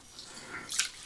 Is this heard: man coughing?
no